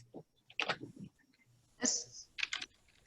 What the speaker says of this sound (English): while you're typing